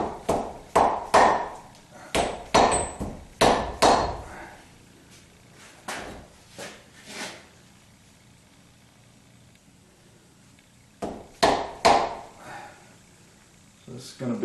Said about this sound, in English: you can actually pound on these pieces of that U-joint